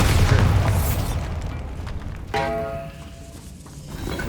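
A Bombarda blasting spell detonates against a barricaded tomb archway in the Hogwarts Legacy game, a loud booming burst near the start that decays into rumbling debris and ringing tonal effects, with no talk over it.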